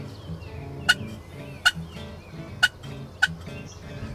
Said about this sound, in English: a live hen popped out of the woods and started making her way through the field.